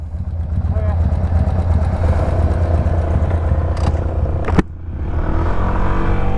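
Outdoors at night, a motorcycle engine rumbles loudly and steadily close by, then pulls away, the sound dropping and fading as it rides off, with a sharp knock partway through.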